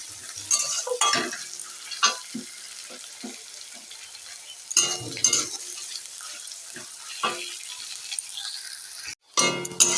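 Onion, garlic and chili fry in a pan for masoor dal with jute leaves, a soft sizzle broken by repeated clattering stirs and scrapes of the spoon, close by with no talking.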